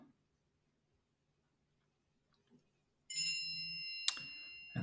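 A phone notification chime sounds in the background of a quiet room, a steady tonal ring starting partway through with a bright ding near the end, fairly faint and alone.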